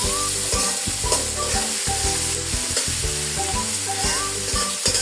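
Food frying in a pan at home, a constant close crackling sizzle with a steady background hum and occasional stirring clatter, loud and continuous with no talking.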